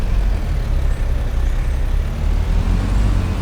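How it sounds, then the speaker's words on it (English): A Kubota tractor engine in the Farming Simulator video game makes a steady, loud, low rumbling drone that holds evenly throughout, with no voices over it. "David, you did a good job with these engine sounds, man."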